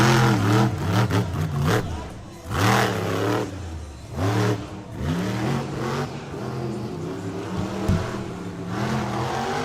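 A monster truck engine at a Miami, Oklahoma show revs hard at full throttle in repeated loud surges that climb and drop, close and powerful.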